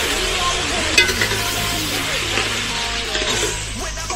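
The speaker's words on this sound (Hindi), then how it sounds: "प्याज बन रहा है।" Onions sizzle and fry steadily for pav bhaji masala in a pan over an outdoor clay chulha, with a spoon stirring and scraping through the hiss and one brief clatter near the start.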